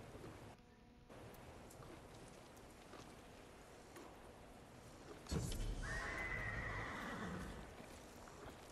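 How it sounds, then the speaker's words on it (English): A horse whinnies loudly in Ghost of Tsushima after a stretch of soft background ambience, with a thud before the neigh and faint hoofbeats in a game-like soundscape. "You're a good horse, Kage"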